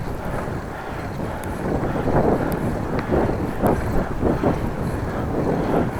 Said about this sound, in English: Heading to the headwind.